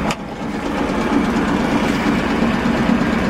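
An Aixam Mega Multitruck van's engine starts with a brief burst and then settles into a steady, close, low rumbling idle.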